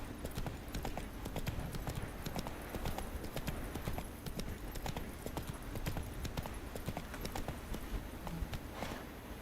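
Roach, the horse in the video game The Witcher 3, gallops with a fast, continuous clip-clop of hooves, steady and close throughout.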